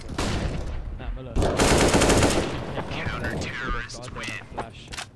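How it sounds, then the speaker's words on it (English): Gunfire in a competitive video game match, with pistol shots among repeated sharp cracks, a loud rapid burst in the middle and scattered mechanical clicks and game effects after it. "he's going to get a couple of pistol shots onto one of the other players"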